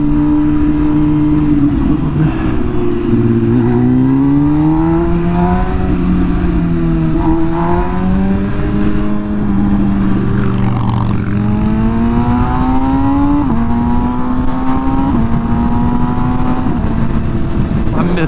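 An MV Agusta Rush motorcycle engine accelerates while riding, a loud sustained roar rising and falling in pitch through gear changes, with wind noise and a voice speaking over it.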